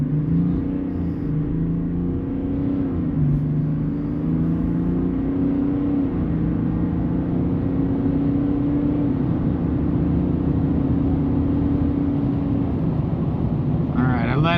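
A 3.0 Duramax diesel pickup accelerates from about 1,500 RPM on a flat test run, heard from inside as a steady, loud engine drone with rising tones under continuous talking.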